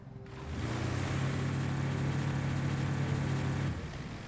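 A heavy truck in the video game RoadCraft drones with a low, steady engine rumble that swells in after a moment, holds, then drops away near the end, heard alone without talk.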